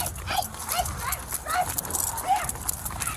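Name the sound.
police attack dog barking during pursuit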